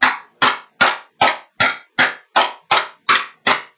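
A hammer strikes metal ten times at a steady, even pace, each blow a sharp, loud close-up crack with a short ring-off and no talking between strikes.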